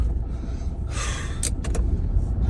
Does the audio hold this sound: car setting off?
yes